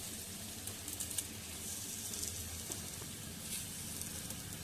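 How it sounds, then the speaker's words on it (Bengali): Semolina-coated Bangada mackerel fries in hot oil over a low flame, giving a steady close sizzle and hiss with faint crackles throughout and no talk. "এবার লো ফ্লেমে ভালো করে মাছগুলোকে ফ্রাই করে নেব।"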